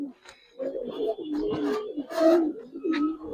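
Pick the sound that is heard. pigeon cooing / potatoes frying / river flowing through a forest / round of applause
pigeon cooing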